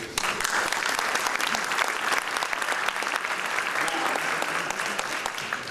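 An audience claps steadily and fairly loudly at an FBI office event introducing a new acting special agent in charge, a dense continuous wash of hands with no talk over it.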